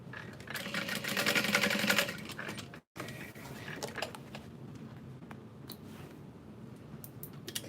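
A sewing machine stitches a Lauren bag, a fast whirring run for about two seconds, then a brief stop and quieter intermittent stitching and handling clicks.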